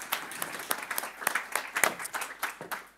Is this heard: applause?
yes